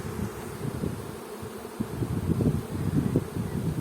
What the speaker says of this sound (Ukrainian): Зараз інші бджілки до неї спустяться.